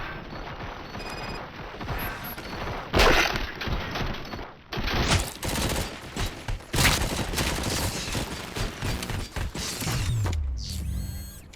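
Gunfire volley in the RoboCop Rogue City video game: a dense burst of mechanical weapon fire and clattering, loud and close, coming in ragged bursts with brief gaps, then a whooshing electronic sweep at the end.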